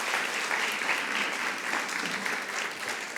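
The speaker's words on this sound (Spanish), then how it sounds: "Denle un aplauso al Señor." A church congregation applauds together in a steady, dense wash of clapping that holds at an even level throughout, with no voices standing out above it.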